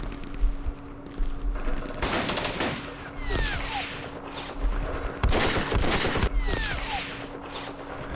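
Machine gun fire from B-class infantry units in Campaign Series Vietnam, several loud rattling bursts a few seconds apart, each a rapid clatter of shots that trails off, over a low steady hum.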